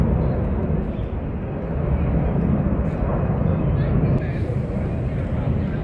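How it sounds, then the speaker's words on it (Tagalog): A jet airplane takes off near the Tung Chung Promenade with a loud, broad, steady roar that fills the whole few seconds, and a voice speaks over it. "Ayan ulit ang aeroplano, airplane."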